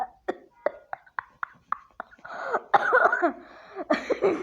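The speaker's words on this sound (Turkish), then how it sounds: "Bu ne öksürme lan." A series of short, sharp coughs in quick succession, close and fairly loud, followed by a burst of laughter and voices.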